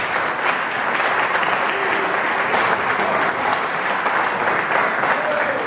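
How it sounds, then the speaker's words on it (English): Dense, loud applause from a large audience, steady and continuous, greets Louis Ayadala as he is introduced at an event. "Louis Ayadala is here. Let's give him a round of applause."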